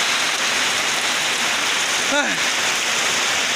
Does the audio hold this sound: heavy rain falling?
yes